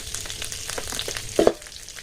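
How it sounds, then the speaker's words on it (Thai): Thai curry paste frying in a pot crackles softly and steadily, followed by a brief louder splash and bubbling sizzle as coconut milk is added near the end. "เราก็ ใส่น้ำกะทิลงไปนะครับ"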